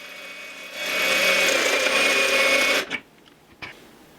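A power drill bores a hole through a stainless steel sink with lubricant, a loud steady whine with a high metallic squeal that cuts off abruptly, followed by a few faint clicks.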